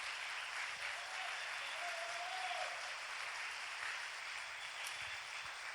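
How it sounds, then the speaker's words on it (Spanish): A church congregation applauds steadily, a dense, even wash of clapping that holds throughout at moderate loudness, heard from within the hall. "aplaude al Señor"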